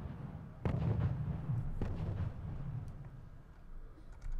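Artillery fire in the real-time strategy game Wargame: a heavy boom lands near the start, then a second thud and a low rumbling tail under steady ambient battle noise.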